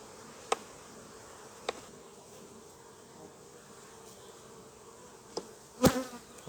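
Honeybees hum at an open beehive in a faint, steady, low drone, with a few sharp clicks and a louder knock near the end and no talking.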